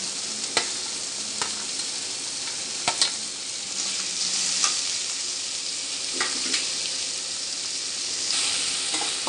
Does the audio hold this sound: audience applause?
no